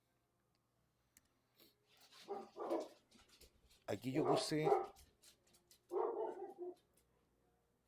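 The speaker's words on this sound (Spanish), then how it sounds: "Ahí están los cachorros que están medio enojados." Irritated puppies give short bursts of barks and whimpers in several separate clusters, fairly close, with a person speaking intermittently between and over them.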